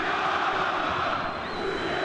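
A football stadium crowd cheers and roars steadily through a Turkey vs Greece Euro 2008 qualifier, a broad, continuous wash of massed voices with no breaks, moderately loud and distant-sounding.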